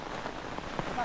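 Rain falling outdoors during a trip home, a faint steady patter of drops on surfaces with occasional louder drips.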